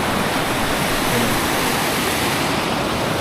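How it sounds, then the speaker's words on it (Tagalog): A river near Puerto Princesa rushes and flows in a loud, steady, unbroken wash of water, close and alone with no voices over it. "nakaka-relax yung tunog ng ilog"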